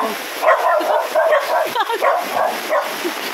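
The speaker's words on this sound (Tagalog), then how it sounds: "Ayan o, ang daming aso ni na Kuya Rin." Many dogs yip and bark in short, overlapping bursts nearby while people talk over the noise.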